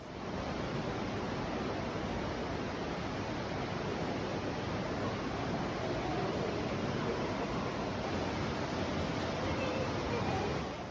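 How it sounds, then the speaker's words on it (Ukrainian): Water roars through a narrow rock gorge barely a meter wide, a steady unbroken rush of broadband noise that fills the whole stretch without pause. "Вода тут не просто тече, вона несеться і реве."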